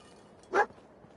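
A single short bark from the dog companion Dogmeat in Fallout 4, a mid-distance game sound in an otherwise quiet moment.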